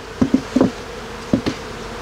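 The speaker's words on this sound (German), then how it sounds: "sind einige Scoutbienen am Fliegen" Scout bees buzz briefly near a beehive in a few short close passes, a handful of quick bursts separated by quiet moments, with no talk.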